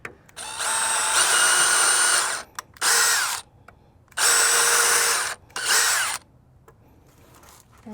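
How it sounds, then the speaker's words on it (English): Power drill pre-drilling wooden garden bed boards, heard as four loud, close whirring bursts of a second or two each, with short pauses between and no talk. "I like to lay the boards down and then pre-drill and then assemble."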